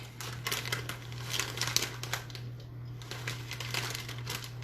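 A plastic bag of shredded mild cheddar cheese crinkles and rustles close by in repeated soft bursts, quiet overall, over a low steady background hum.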